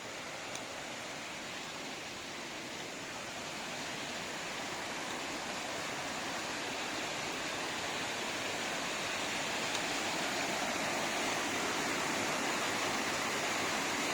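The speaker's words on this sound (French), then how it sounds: "Donc là on doit être un peu au-dessus des cascades." Water from the Cascade de la Mouline in the Gorges d'Anzême, Creuse, rushes steadily as heard from above the falls. The roar is soft and continuous, with no voices.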